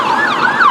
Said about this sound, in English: oh, this is an ambulance.